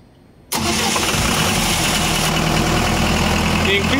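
A Cummins diesel generator engine cranks and fires up suddenly after near silence, then runs loud and steady as it revs up to full speed, with a dense continuous roar.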